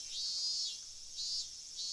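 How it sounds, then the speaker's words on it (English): Cicadas drone in the video game Higurashi, a steady high-pitched buzzing that swells in slow, regular pulses as a quiet, continuous background with no voices. "the voices of the cicadas were entering through an air hole somewhere, giving it a very mysterious feel"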